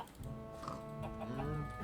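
A Minecraft chicken clucks in short repeated bursts over a background of game music and faint voices, moderately quiet.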